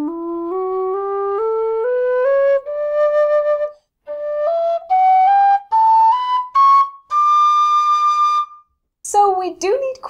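A Lir low D tin whistle plays ascending scales in clear stepwise notes, climbing through the octaves toward a strained high D, loud and close with brief pauses between runs.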